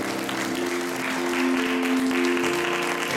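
A church congregation applauds during a Sunday service baptism celebration, with steady, dense clapping filling the room throughout and a sustained tonal hum from organ or keyboard underneath.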